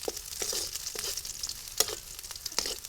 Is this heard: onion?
yes